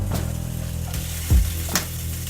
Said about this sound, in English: I'm just gonna put the carrots and the purple potatoes in first because they take a little bit longer to cook